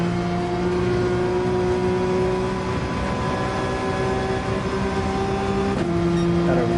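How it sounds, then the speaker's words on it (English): Porsche 911 engine in Gran Turismo 7 racing, a loud, sustained, steady tone held near the top of the rev range, dipping briefly as a gear shift lands, then continuing without talk. "Gotta rev out this 911. Peak power at the top of the RPM band."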